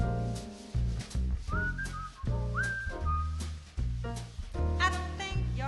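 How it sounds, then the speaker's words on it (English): A person whistles a short jazzy tune with sliding pitch bends over a small jazz quintet's steady accompaniment, the whistled melody clear and prominent. "I'd whistle a little tune"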